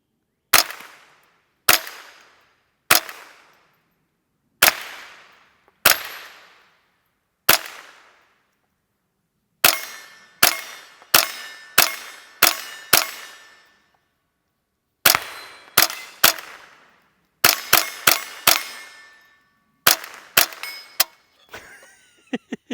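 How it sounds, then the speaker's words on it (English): A replica WWII bazooka chambered in .22 LR fires tracer rounds at targets outdoors: sharp single cracks with metallic clangs of hits, spaced apart at first, then coming in quicker clusters, each ringing briefly before silence. "let's do some shooting. I got some tracers in here. Let's see if I can hit a few things."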